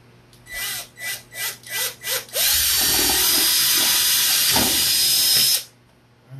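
Power drill fitted with a 1/8-inch bit drilling thin metal for a chicken kill cone, starting with five short bursts, then running loud and steady for about three seconds before stopping.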